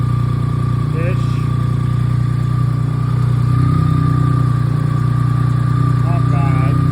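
A BMW K75 motorcycle engine idles close by during throttle body synchronization, a steady even hum with a slight rise midway, while a person talks over it.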